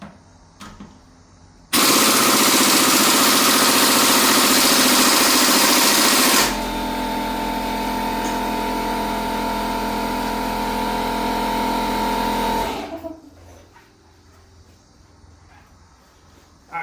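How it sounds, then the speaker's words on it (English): A small, undersized air compressor for air tools kicks on abruptly and runs loud and close with a steady motor drone, shifts to a slightly lower pitch partway through, then cuts off and winds down. "And my compressor sucks."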